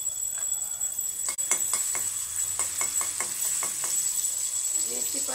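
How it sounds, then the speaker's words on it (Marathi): Ground green chilli sputters in oil in a kadhai, with a continuous close sizzle broken by a quick run of sharp clicks and scrapes as the mixture is stirred. "त्याच्यामध्ये आपण तेल, कढईत तेल टाकले। आता थोडीशी मिरची टाकणार आहे"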